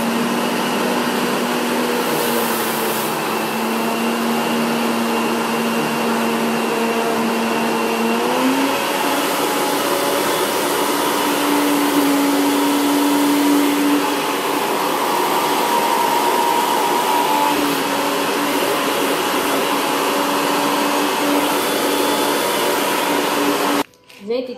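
A kitchen blender runs steadily at a good speed, grinding sugar into fine powder, with a continuous motor whine and buzzing that shifts pitch partway through, loud and close, with brief voice moments over it.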